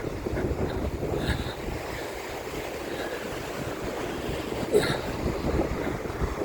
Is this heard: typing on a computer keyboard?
no